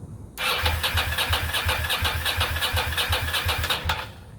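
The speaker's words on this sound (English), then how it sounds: "So the compression sounds fine. It cranks well." A 2006 Ducati Monster S2R motorcycle engine cranks steadily with a rapid, even chugging rhythm for several seconds, never catching, then stops.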